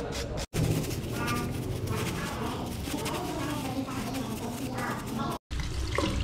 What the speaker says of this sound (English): just rinse it out with some running water